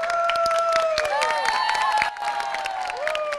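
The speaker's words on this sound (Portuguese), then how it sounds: "E a torcida vibrando." Crowd cheering and whistling at the end of a badminton challenge match, a steady loud roar with shrill whistles throughout, dipping slightly partway through.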